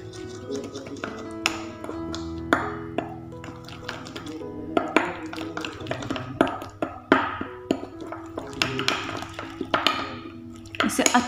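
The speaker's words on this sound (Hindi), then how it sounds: "तो जैसे कि आप लोग देख सकते हैं मैं इसे अच्छे से मिक्स कर रही हूँ।" A homemade face scrub being mixed with milk in a bowl, giving repeated light taps and scraping clinks of a spoon against the bowl with a low hum beneath, a voice talking over it.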